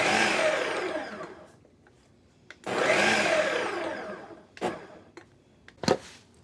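A kitchen blender whirs through a homemade mayonnaise-style emulsion sauce with onion added. Two long, loud bursts of spinning blade noise are separated by a pause, then short pulsed blips follow, with no voices heard.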